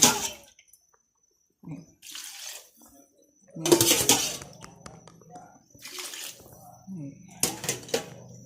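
Water poured into a cooking pot in several short splashing bursts separated by quiet gaps, close by, with someone speaking between pours.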